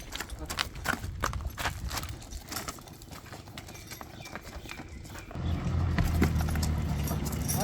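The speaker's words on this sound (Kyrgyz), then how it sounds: "Атка келебиз. Жетеле, жетеле." A sturdy horse led on foot, hooves clip-clopping in an uneven rhythm nearby, then a louder rumbling background takes over; people talk briefly.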